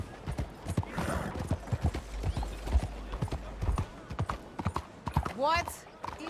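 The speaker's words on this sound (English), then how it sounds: "That's a weird noise for my horse to make." Horse hooves clip-clop steadily in Red Dead Redemption 2, then near the end an odd, rising whinny rings out loudly; speech-like sounds appear alongside the hoofbeats.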